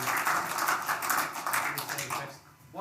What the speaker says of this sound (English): A round of applause, please, everyone,